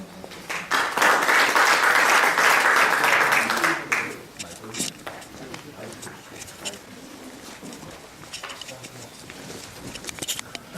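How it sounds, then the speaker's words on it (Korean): Audience applause at a blockchain presentation event, a dense burst of clapping lasting about four seconds before fading into quieter room noise. "박수로 와주시면"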